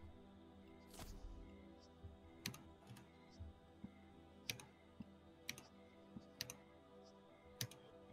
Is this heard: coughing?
no